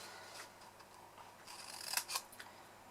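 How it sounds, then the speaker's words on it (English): Scissors snipping corner tabs and small wedges out of a card box for a Christmas candle box, a few quiet crisp cuts clustered near the end, with no voices. "now you just go along and cut the tabs with the 4 corners and cut little wedges out of those"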